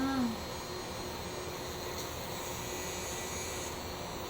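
An electric hair removal device gives off a steady, even buzz up close, a constant droning hum running throughout, with a brief voice at the very start.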